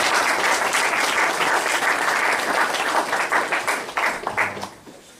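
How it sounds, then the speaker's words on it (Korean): An audience claps for a lecturer after a theology talk, loud dense applause that thins into scattered claps and dies away near the end. "장시간 동안 좋은 강의 주신 박 박사님 다시 한번 박수"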